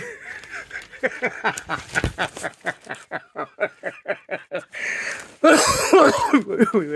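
Repeated coughing in a rapid series of harsh bursts, followed by a louder fit of coughing and throat clearing near the end.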